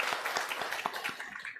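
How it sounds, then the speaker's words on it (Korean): A church congregation applauds together for a young man back from military service, a brief, fairly soft wash of dense clapping that thins out at the end. "우리 다 같이 축하의 박수를 부탁드립니다."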